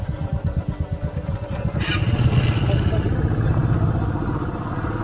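A motorcycle with a worn clutch plate struggles to pick up, its engine chugging unevenly and then droning steadily nearby, with a brief clatter partway through.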